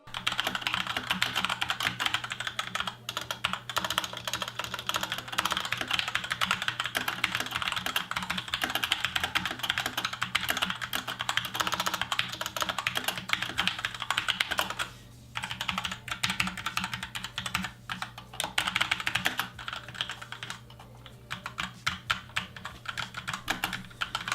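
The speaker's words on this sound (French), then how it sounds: "revenons un peu sur les switches pour voir quel bruit font-ils, car qui dit clavier mécanique dit forcément plus de bruit que des claviers à membrane" Continuous rapid typing on a SteelSeries Apex M750 mechanical keyboard with QX2 switches: dense, close, clattering keystrokes run for about twenty-four seconds, with one brief pause partway through and no voices.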